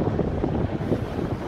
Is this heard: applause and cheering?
no